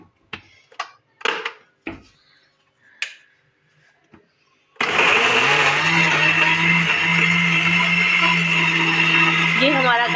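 Strawberry juice with water and black salt whirs in a blender, loud and steady after several seconds of clinks and handling noises, running without pause to the end.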